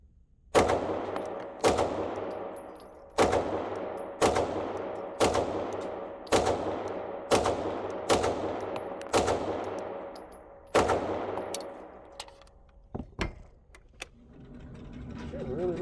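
Archon Type B pistol firing about ten sharp shots at an outdoor range, evenly spaced at first and then a quicker pair, loud and close with ringing tails; faint talk follows.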